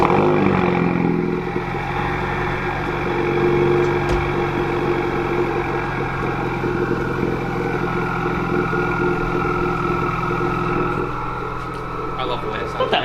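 A Honda Civic with an aftermarket exhaust idles with a steady, deep, throaty, tractor-like rumble, not very loud, close and continuous, with a faint voice now and then.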